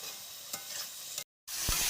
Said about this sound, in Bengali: এবারে ভালোভাবে সব কিছু মিশিয়ে নেব।